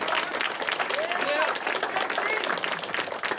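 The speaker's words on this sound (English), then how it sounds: "Can we give them a round of applause?" Audience at a live theatre performance of The Sword in the Stone applauding a scouting troop at an outdoor event, dense steady clapping with cheering voices and whistles throughout.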